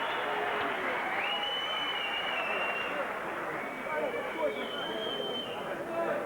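A crowd at a professional boxing bout between Dennis Andries and Jeff Harding gives steady, moderate applause and cheering while awaiting the verdict, with a voice talking clearly over the noise throughout.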